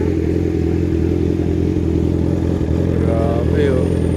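Motorcycle engine idling and rumbling steadily nearby, a constant mid-pitched drone with faint clatter, with people talking over it.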